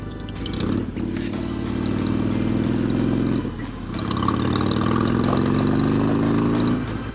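A Harley-Davidson Iron 883 motorcycle engine drones steadily on a ride in the Okanagan Valley, rising through the gears twice with a brief drop in between, loud and close under wind noise.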